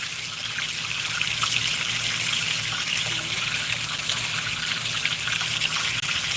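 Fast water runs down a gold prospecting sluice box, a continuous close splashing, trickling rush that holds steady for several seconds.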